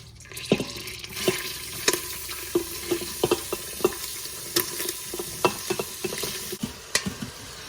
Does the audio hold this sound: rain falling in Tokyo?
no